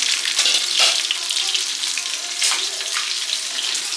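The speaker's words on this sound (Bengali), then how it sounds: "এই যে মাছ ভাজা হচ্ছে রাতের তরকারির জন্য মাছ" Loud, close sizzling and crackling of fish frying in hot oil, a dense hiss that swells and eases without pause.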